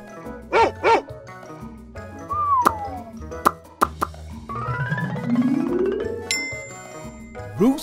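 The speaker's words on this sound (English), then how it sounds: "Dog." Two short dog barks ring out near the start, amid cartoonish plops, dings and sliding toy-like sound effects.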